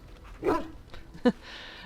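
Two short barks from a companion dog in Dragon Age: Origins, a louder one followed by a brief sharper one about a second later, close and clear over a quiet game background.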